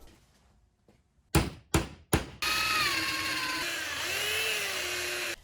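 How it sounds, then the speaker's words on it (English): A power drill bores screw holes for a van deck rail: three sharp knocks, then a steady, loud motor whine that shifts in pitch as the bit works through the material. "I went ahead and drilled the holes that the screw would be sitting in that attached to the rail."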